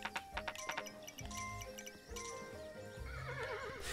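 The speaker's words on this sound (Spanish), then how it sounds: "se me cansó el caballo" A horse in the video game Kingdom: Two Crowns neighs and whinnies loudly over rhythmic clip-clop hoofbeats and chiming game music, with no talking.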